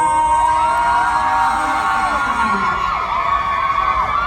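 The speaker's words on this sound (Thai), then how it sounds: "ยังไม่พอขอเสียงกรี๊ดดังๆให้กับน้องนัทอีกหนึ่งครั้งค่ะ" A crowd of fans at a Thai debut fan event screams and cheers for a performer, with high-pitched shrieks and whoops rising and falling, loud and continuous.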